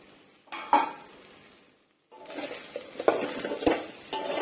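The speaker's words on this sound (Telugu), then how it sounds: "ఇప్పుడైతే మనం చికెన్ ఫ్రై చేసుకుందామండి" Chicken stirred and fried in a pan for a chicken pickle, giving short scraping stirs and faint sizzling in two bursts separated by a brief quiet gap, close and fairly soft.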